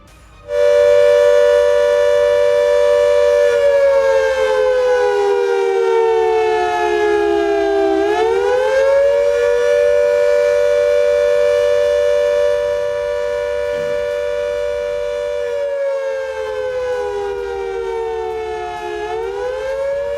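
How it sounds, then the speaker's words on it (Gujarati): A civil defense war siren sounds a test, a loud steady wail that dips and rises in pitch at intervals and sustains for the whole stretch, alone without talk. "કાલે જ્યારે સાંજે 4 વાગ્યે 18 જિલ્લામાં એક સાથે સાયરન વાગશે તો એ સાયરન કેવું હશે એકવાર સંભળાવી દો."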